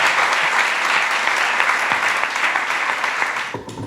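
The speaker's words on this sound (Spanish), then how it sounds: "se merecen un fuerte aplauso, ¿no?" Loud, sustained applause from an audience at a tribute event in a Valencian peña taurina, a dense steady clatter of many hands that fades slightly near the end.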